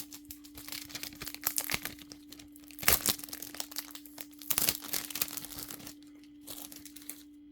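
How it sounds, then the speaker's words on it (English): Close crinkling and tearing of the stiff plastic wrap on a new Nintendo 3DS game case, with irregular rustles and a few sharper crackling bursts, no voice. "it is always satisfying to watch to unwrap a new game"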